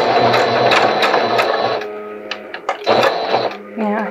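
A sewing machine stitches a fabric face mask, running in steady mechanical bursts with short pauses between runs while a person talks over it.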